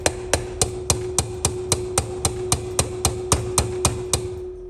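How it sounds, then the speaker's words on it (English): A fine chisel is tapped in about fifteen light, evenly spaced strikes to even out a gap during final engine assembly on an MGA restoration. Each tap is a close, crisp metallic hit. "I just take a really fine chisel and I set it in the smaller gapped one right in the center. And I just carefully tap."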